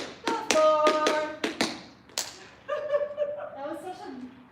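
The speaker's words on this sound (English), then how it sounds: "That was such a unremarkable clap." Sharp hand claps and taps in an online tap dance class, several loud crisp strikes in quick succession, followed by someone speaking.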